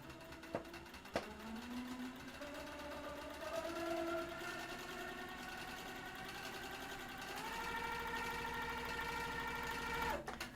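A domestic sewing machine stitching free-motion quilted arcs runs with a quiet steady motor whine whose pitch rises and falls as speed changes, faint and close, with a couple of soft clicks.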